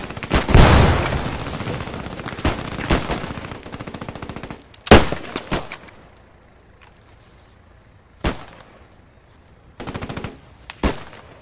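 Bursts of automatic gunfire aimed at an unmanned half-track in the WWII shooter Post Scriptum, a heavy opening volley followed by scattered sharp single shots and short bursts with quieter gaps between.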